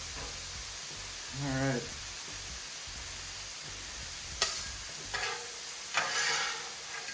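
Beef fries on a CampChef flat top grill for Philly cheesesteaks, a steady open-air sizzle with a few sharp spatula scrapes and clanks, and a brief spoken comment.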